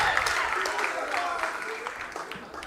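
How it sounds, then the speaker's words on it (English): A pageant audience at a live beauty contest breaks into applause, the clapping moderately loud and mixed with crowd voices and cheering. "And I think before I go to Naya Joko, you deserve a round of applause."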